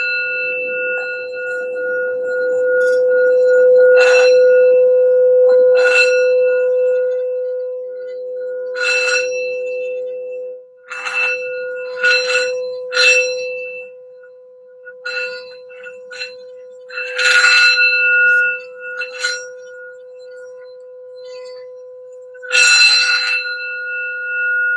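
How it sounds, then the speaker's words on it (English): A meditation sound bell rings with a long, sustained pure tone that slowly fades, followed by a series of separate bright strikes and shimmering chimes over about twenty-five seconds, near and alone. "I'm going to do a quick sound bell"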